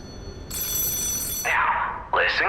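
An old-style telephone bell rings in the video game Lies of P, a bright sustained trill lasting about a second, with a voice speaking over the ring and after it.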